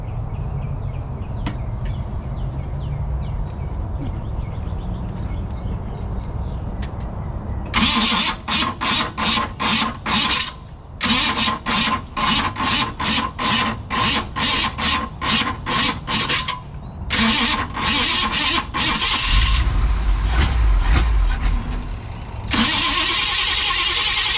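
A 1956 Ford Club Sedan gasser being cranked from a hot start, the starter grinding in a fast rhythmic chug for many seconds with short pauses, loud and close, before the engine catches and roars.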